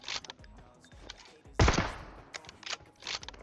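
Gunfire from the mobile battle royale game PUBG Mobile: several sharp shots and short bursts at uneven intervals, with one heavier close blast in the middle and lighter distant pops around it, no talking.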